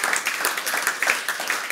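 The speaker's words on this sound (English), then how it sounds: "so a round of applause there, please" A dense burst of crowd applause, many hands clapping together steadily and fairly loudly.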